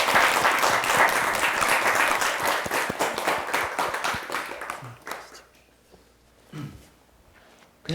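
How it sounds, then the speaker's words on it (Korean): An audience at a lecture show breaks into vigorous applause that gradually tapers off over about five seconds, followed by quiet room sounds and a few scattered claps. "박수 한번 해주십시오"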